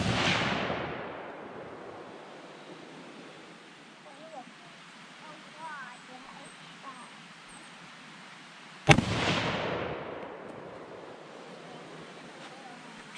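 A Ruger American rifle in 6.5 Creedmoor fires outdoors on a deer-hunting outing, with two loud, sharp shots about nine seconds apart. Each shot has a long rumbling decay, with quieter outdoor ambience between them.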